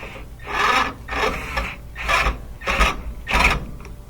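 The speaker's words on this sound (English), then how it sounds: "You're going to tighten up this hose clamp right over that kind of weak spot." A hose clamp being tightened on the lift mechanism of a GMC power seat, five rhythmic rasping, ratcheting strokes up close, each about half a second long and loud, with brief pauses between.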